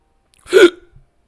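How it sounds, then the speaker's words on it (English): A single loud, abrupt hiccup, sharp and close, standing alone in silence. "What the fuck are these hiccups?"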